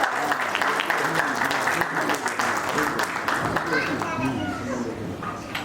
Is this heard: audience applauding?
yes